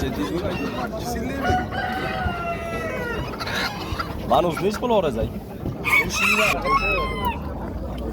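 Roosters crow and hens cluck amid a busy Namangan poultry bazaar where cockerels and hens are sold, the calls rising and falling under steady nearby talk and market chatter.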